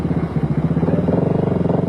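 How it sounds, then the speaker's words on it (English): A Yamaha Raptor quad, bike number L1, rides up during the Toyota 1000 Desert race in Botswana in 2001, its engine a steady, loud, pulsing drone with a rhythmic throb throughout. "Brendan Bardenhorst, the overnight leader, arrives on the Yamaha Raptor"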